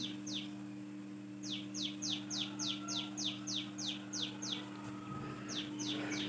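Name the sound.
birds chirping outdoors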